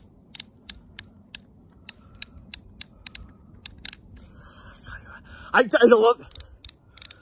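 A Ruger .22 Single Six revolver gives a series of sharp, close mechanical clicks at a quick, uneven rhythm, followed by a brief burst of louder handling rattle. A voice is faintly audible.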